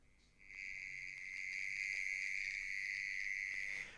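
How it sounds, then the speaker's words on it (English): A mole cricket calls in one steady, continuous high-pitched trill that starts after a brief quiet moment and holds loud and clear to the end, with no voices present. "The correct answer is mole cricket."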